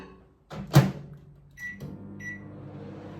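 An 800 watt microwave oven is shut with a sharp, close clunk, followed by a couple of faint beeps and then a low, steady running hum.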